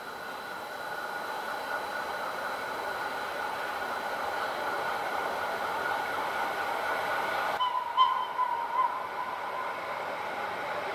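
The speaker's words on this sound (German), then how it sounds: "Der Zug erreicht in Kürze den Bahnhof Reichenau-Tamins." An RhB Ge 6/6 I Krokodil electric locomotive running on the Rhaetian Railway, a steady broadband rumble with a faint hum, close and even, slightly louder toward the end with a brief squeal.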